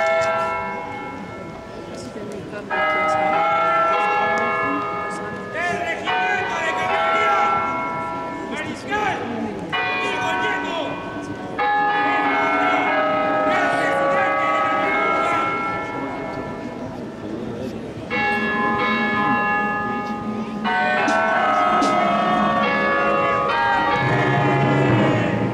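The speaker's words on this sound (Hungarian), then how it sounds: "Mivel dél volt, a katedrális harangjai is megszólaltak." Cathedral church bells ringing at noon in Peru, a loud continuous peal of overlapping tolls sustained throughout, with a busy outdoor ambience beneath.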